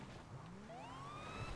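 Police car siren in GTA V, a rising electronic wail sweeping upward in pitch over a steady low engine rumble, moderately loud and continuous without any talk.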